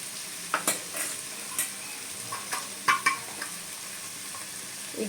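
Taro curry with tomato, turmeric and salt fries in a pan, a soft steady sizzle under intermittent scraping stirs of a spatula, close but moderate in level, with no talking.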